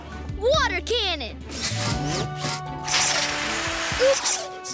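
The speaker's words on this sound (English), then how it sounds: "Water cannon!" A cartoon water cannon sprays in a short hissing burst, mixed with whooshes, zips and squeaky effects from an animated rescue-pup show, with a child-like voice heard amid the busy layered sound.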